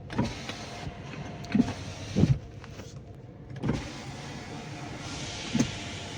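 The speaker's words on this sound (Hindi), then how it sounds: "फ्रंट लेफ्ट पावर विंडो अभी प्रॉपरली ओके है, स्मूथली काम कर रहा है" Front left power window motor on a VW Polo running smoothly, a steady low whir with a few short clunks and bumps at the start and end of its travel, heard up close inside the car.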